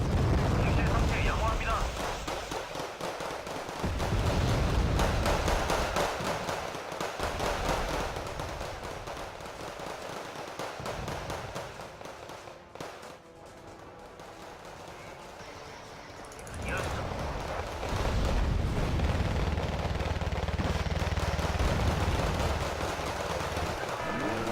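Two K1 main battle tanks open fire in a Wargame Red Dragon battle against North Korean units, with heavy cannon blasts and crackling gunfire rumbling loudly and almost continuously, easing briefly midway before surging back.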